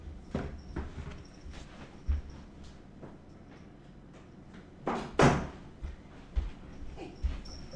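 A bathroom door is shut in a home, giving a few scattered thuds and bumps with one louder knock near the middle, mid-distance, over quiet room noise.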